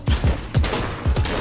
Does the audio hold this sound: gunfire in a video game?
yes